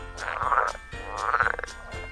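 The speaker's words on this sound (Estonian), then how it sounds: "Konnad." Frogs croaking close by in two drawn-out, raspy calls with a pulsing throaty rattle, repeated after a brief pause, loud and clear with no talk.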